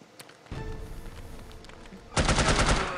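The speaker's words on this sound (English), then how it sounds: "Machine gun. Machine gun." Machine gun fire from the video game No One Lives Forever, with sustained bursts of shots followed by a louder, dense rattling volley near the end.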